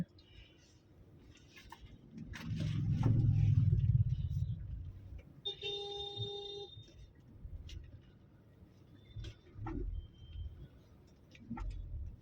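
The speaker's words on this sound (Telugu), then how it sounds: "ట్రాఫిక్ అయితే కొంచెం హెవీగానే ఉంది" Heavy road traffic with vehicles passing in both directions on a busy main road, a swelling rumble of a passing vehicle, then scattered engine noise and a horn-like tone, with people talking intermittently.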